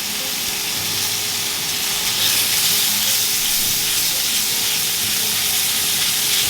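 Steak frying over low-medium heat in a pan with garlic herb butter, a loud, dense, continuous sizzle and hiss that holds steady throughout, up close with no talking.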